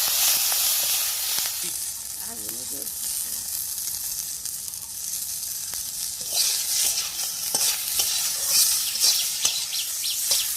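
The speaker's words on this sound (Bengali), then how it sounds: "তারপরে আমি আলুটাকে দিয়ে দেবো। তারপর আমি একটু নেড়ে নেবো।" Potatoes with green chilli sizzling and frying in hot oil in a kadai, a steady bright hiss with occasional scrapes of stirring, close and continuous with no talk.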